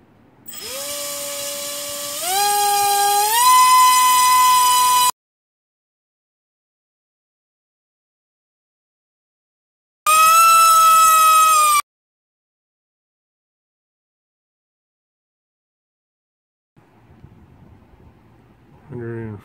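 DYS 1104 7000kv brushless motor on 3S spinning a 3020 propeller, giving a loud high-pitched whine that steps up in speed, stops, then returns in a short burst, followed by quieter sounds near the end.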